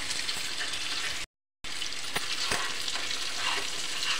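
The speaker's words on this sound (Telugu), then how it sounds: "దీంట్లో ఎగ్ కొట్టిన తర్వాత మనం ఏమంటే దీన్ని అయితే ఇట్లా కలుపుకోవాలన్నమాట." Beaten egg fries in a pan and is stirred into small pieces, a loud, dense, steady sizzle with occasional spatula taps, briefly cut to silence partway through and then resuming, without speech.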